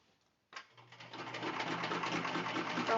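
A sewing machine runs steadily as it topstitches a straight seam along the edge of a car trash bag, starting abruptly after a brief silence and building into a continuous close whir.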